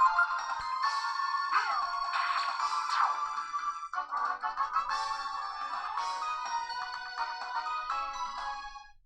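A mobile phone plays a melodic electronic ringtone, loud and continuous for several seconds, with chiming repeated phrases and no talking over it.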